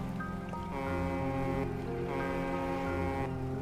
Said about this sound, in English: Loud horn makes your presence known.